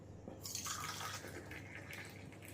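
Hot water poured over a little salt, a steady close liquid trickle and splash running continuously for a couple of seconds, with no voices.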